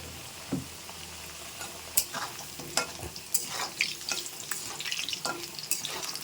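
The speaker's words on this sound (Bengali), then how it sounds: "আলুটা কিন্তু আমার প্রায় ভাজা ভাজা হয়ে গেছে আর একটুখানি ভেজে নেব লাল লাল করে" Potatoes fry in a pan with a little salt and turmeric, a quiet continuous sizzle punctuated by sharp scraping stirs and occasional clinks of a spatula, close by and without talk.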